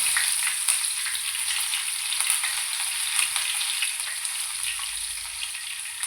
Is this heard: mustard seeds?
yes